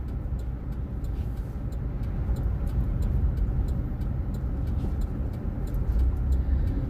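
Steady low road rumble of a car driving along a rural farm road on a cool afternoon, continuous and moderately loud from inside the vehicle with faint ticking throughout, no talk.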